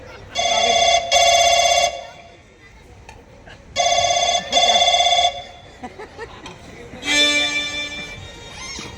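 A telephone rings in three bursts during a village stage play, loud and close, each a shrill double trill, with a low murmur and faint movement in the gaps.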